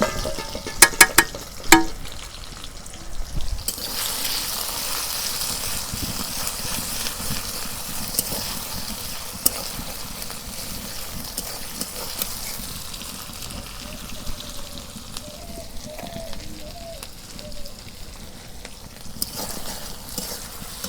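Onion paste fries in hot mustard oil in a pan, a steady broad sizzle that holds from start to finish, with a few sharp clatters at the start and some soft tones later.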